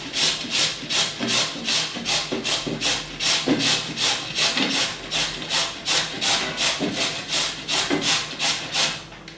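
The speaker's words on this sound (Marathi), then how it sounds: "आपण हे दोन्ही पपई हे पण आता पपई या पद्धतीनं किसून घ्यायचं आहे" Raw papaya is grated in a steady, rhythmic series of close, rasping strokes, about two per second, each a loud scraping rub.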